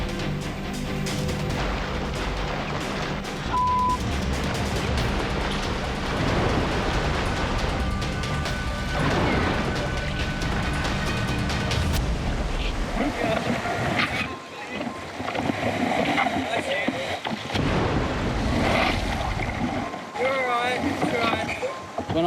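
Ocean surf at a beach rip current, a continuous heavy roar of breaking waves and churning water with wind, loud and sustained, with voices mixed in.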